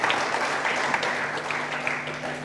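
A church congregation claps at an Easter worship service, a steady wash of applause throughout with a low sustained hum underneath.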